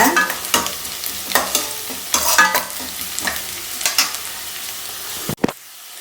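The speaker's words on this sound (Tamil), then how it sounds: "வெங்காயம் நல்லா இந்த மாதிரி வதங்கணும் நல்ல பொன்னிறமாக வதக்கிற வரைக்கும் நல்லா வந்து வதக்கிக்கோங்க" Onions sauté in a hot pan for an egg curry while a utensil stirs and scrapes at irregular intervals, close and fairly loud, ending with a sharp knock.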